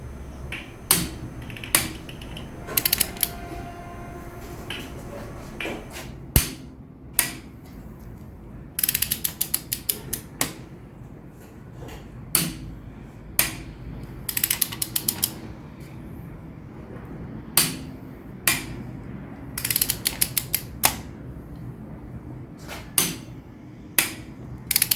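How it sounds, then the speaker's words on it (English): A torque wrench tightens John Deere 4045 diesel head bolts, its ratchet clicking in quick bursts followed by sharp single clicks as each bolt reaches torque, repeated steadily and close up throughout. "Make it a habit to stop the torque wrench with the clicking sound of your torque wrench"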